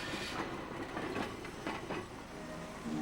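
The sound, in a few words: Hong Kong Peak Cable Tram climbing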